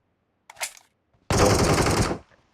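Machine-gun fire in a battle royale video game on the Pochinki map: a short burst and then a sustained, loud rapid volley lasting about a second, with no talk.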